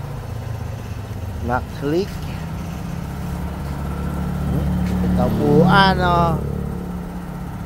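A motorcycle engine idles with a low, steady rumble under excited nearby talk and laughter, the hum continuing evenly throughout.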